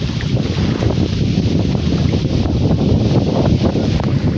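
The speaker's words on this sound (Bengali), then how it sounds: "সমুদ্রের মতন ঢেউ।" Waves lap steadily along the bank of the Ichamati river, a continuous close wash of water under strong wind rumble on the microphone, with no voices.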